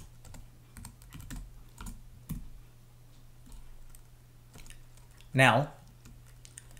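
Typing on a computer keyboard while entering commands on an Ubuntu 16 server during a MongoDB setup: soft scattered key clicks under a steady hum, a short spoken word and a louder clatter near the end.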